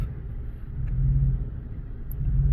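Rough idle from a 2011 Chevrolet Silverado with the 5.3 engine, sitting in drive: a low, uneven engine rumble with slight surging, steady and close, with no talking.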